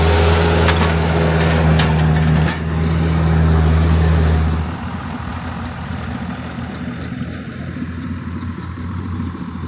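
Tractors hauling hay bales on a trailer and a bale carrier, a loud, close, low diesel drone that drops to a quieter, steady engine rumble partway through, with no talking.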